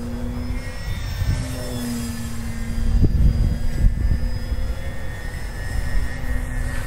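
A Dynam Pitts Python radio-controlled model airplane flying, its small electric motor giving a steady whine that swells slightly as it passes, heard outdoors at a moderate distance with no talk.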